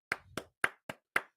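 Five sharp hand claps ring out in a slow, even rhythm, each a crisp slap with a short decay, close and alone against silence.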